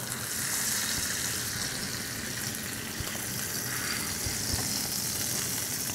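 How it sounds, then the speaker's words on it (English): Pot roast beef sears in a hot pan with a steady, close hiss and crackle of sizzling fat that holds at an even level throughout, with no talk. "So I'm going to sear a little bit more of the outside of this."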